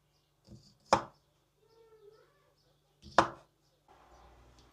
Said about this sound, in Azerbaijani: Vişnələri doğrayıram.